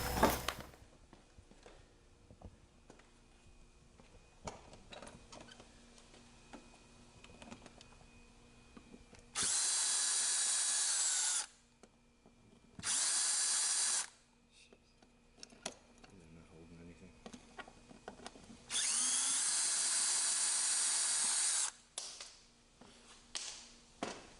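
A power drill backs out hinge screws from a slab door, running in three loud whirring bursts of about two seconds each, separated by quieter pauses with low handling noise.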